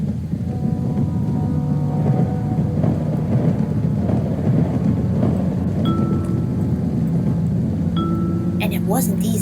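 A thunderstorm in the Poptropica Realms video game brings continuous rain and low rumbling thunder, with a few brief electronic game tones near the end.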